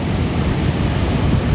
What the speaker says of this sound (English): There's a big wave coming in.